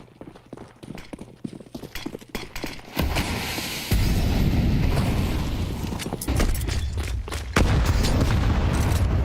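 A grenade detonates during a Counter-Strike match as a loud burst of explosive noise. It follows a run of sharp game clicks and footsteps, then rolls on as a sustained roar with further heavy booms.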